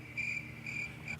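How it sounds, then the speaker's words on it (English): Crickets chirp in steady high-pitched pulses, three bursts in quick succession, clear and fairly close over a faint background hum. "It's fucking crickets."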